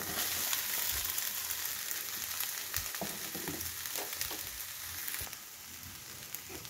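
Cooked rice frying in a pan with half-fried vegetables, a steady loud sizzle with occasional stirring clicks and scrapes, continuous throughout, no voices.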